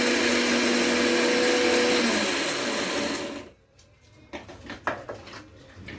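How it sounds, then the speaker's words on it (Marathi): Mixer grinder whirring loudly as it grinds fenugreek and fennel seeds together, a dense steady roar for about three seconds before it stops, followed by a few clattering knocks of the jar and lid. "हे काय मेथी आणि बडीशेप दोन्ही एकत्र दळलं तरी चालणार आहे दोन्ही एकत्र करून आपण बारीक करून घेऊया"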